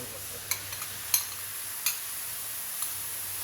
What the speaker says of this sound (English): You have to mix it slowly